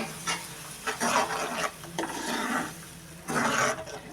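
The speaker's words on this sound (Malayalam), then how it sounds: "നന്നായിട്ട് ഇളക്കി കൊടുക്കുക" Ground coconut paste being stirred into a potato curry in a pan, with soft scraping and wet sloshing strokes coming in several bursts close by, and no voices.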